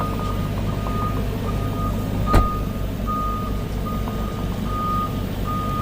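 Truck reversing beeps at a water drilling rig site in Gisborne, a steady series of evenly spaced electronic beeps over a low idling engine rumble, with one sharp knock partway through.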